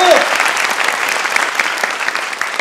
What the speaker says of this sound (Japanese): ゼニーゼニーに拍手。